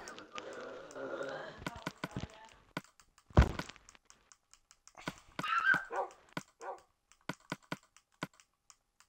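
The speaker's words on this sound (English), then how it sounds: "I found my other dog, by the way." A Minecraft dog barks and whimpers in short game-sound bursts, mixed with sharp keyboard clicks and thunks, while a person talks at the start.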